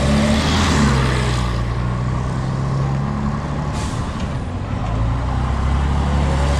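Large buses on a university campus road in Near East University, Northern Cyprus: a loud, continuous engine roar with a hiss of air brakes, close by and unbroken by talk.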